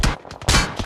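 Short burst of several rapid gunshots in a battle royale game, sharp and close with an uneven rhythm, alone without talk.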